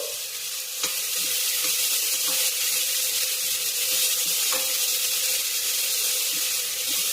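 Onions sizzle steadily in a pan for palak rice, a continuous close frying hiss with faint stirring clicks, no talk.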